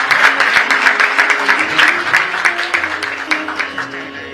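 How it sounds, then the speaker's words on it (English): An audience at a state-level prize function in Goa gives prize winners a loud, close round of clapping with dense, uneven individual claps that fade slightly toward the end. "A big round of applause for them."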